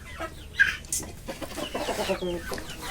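Young hill-breed roosters and hens cluck and squawk close by in a lively, restless bunch, with overlapping calls and one sharp high squawk near the start.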